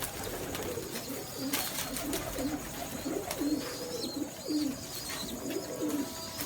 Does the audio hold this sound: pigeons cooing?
yes